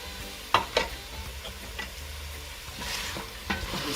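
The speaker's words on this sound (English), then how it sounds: "Just give that a nice mix." Ginger, pepper and garlic frying in a pot for curry goat, stirred with a utensil: a soft continuous sizzle broken by several clear scraping knocks against the pot, close up and with no speech.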